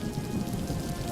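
Steady rain falls on a surface in a village farm setting, a dense, even hiss without pauses and with no voices.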